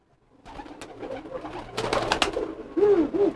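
Domestic pigeons at a home pigeon sale coo close by, with soft rustling and shuffling building up to two distinct throaty coos near the end.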